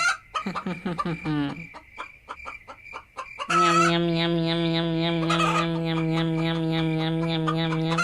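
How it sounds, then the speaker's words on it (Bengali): Cartoon chickens squawking and clucking in alarm, a burst of choppy frantic cackles followed by a long, loud, sustained screeching cry that holds to the end. "একদিন বুড়ি মার ঘুম ভেঙে যায় মুরগির চিৎকার আওয়াজে"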